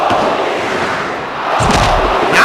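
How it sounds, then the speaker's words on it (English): A wrestling crowd roars in appreciation and respect for a wrestler, a loud dense mass of cheering voices that swells again toward the end. "Now this crowd showing them appreciation and respect for Bulba."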